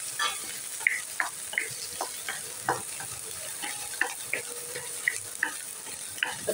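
Onion frying with ginger and green chilli in a pan for ragi soup, a soft steady sizzle marked by regular light scrapes and taps of a stirring spoon, fairly quiet and close.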